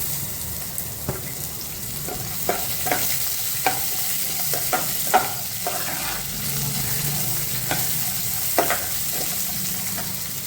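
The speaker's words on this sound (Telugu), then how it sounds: "పోపుతో పాటు పల్లీలు కూడా మంచి కలర్ వచ్చి వేగిపోతాయి అన్నమాట" Tempering spices and peanuts frying in a pan on low heat, giving a steady soft sizzle with scattered small pops and stirring clicks throughout, close by.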